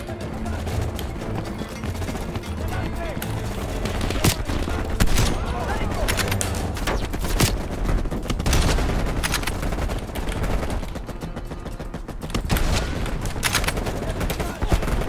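Call of Duty Black Ops Cold War gameplay fills the clip with dense, loud bursts of rapid gunfire and scattered single shots throughout. A player talks over the action.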